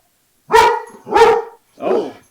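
A dog barks three times at another dog, loud and close, in a 2D adventure game built with the SCI 1.1 engine, with short gaps between the barks and no talk.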